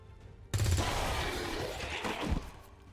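Gunfire in the XCOM video game erupts suddenly as a dense burst of shots lasting about two seconds, loud and close, then cuts off, with no talking.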